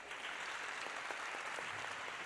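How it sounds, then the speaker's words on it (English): Steady applause from an audience at a Somali pitch competition livestream in Minneapolis, a dense continuous wash of clapping throughout with no speech over it. "Give him a huge round of applause."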